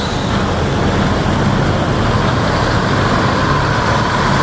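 An ANS intercity bus pulling away on its route from Bandung toward West Sumatra, a loud, steady engine drone and road rumble that fills the whole stretch without pause.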